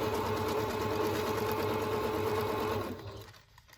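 A sewing machine runs steadily at a slow stitch speed while strips are string-pieced, a continuous close whirring hum that stops near the end, leaving near silence.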